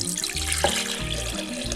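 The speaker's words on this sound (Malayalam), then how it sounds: "അപ്പോൾ പാല് ആദ്യമേ കുറച്ച് ഇതിലേക്ക് ഒഴിക്കാം." Milk poured into a mixer jar, a short steady liquid stream gurgling and splashing up close, with a faint clink partway through.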